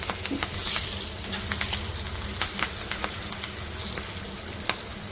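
Red chili powder and slit green chilies fry gently over low heat, a soft continuous sizzle broken by scattered light pops and stirring taps.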